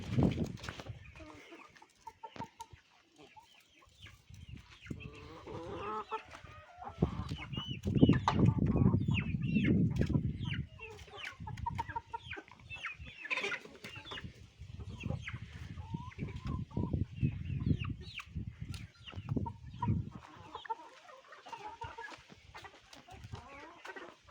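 Chickens cluck and murmur continuously in a breezy outdoor coop, several birds close by with uneven bursts of clucking and soft squawks over wind noise, no talking.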